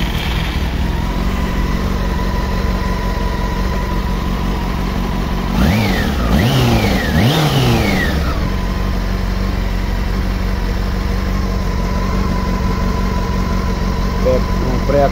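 A 2007 Honda Hornet 600 motorcycle with an unsteady idle runs close by, idling evenly, then revs sharply in three quick rising-and-falling blips before it drops back to a steady idle.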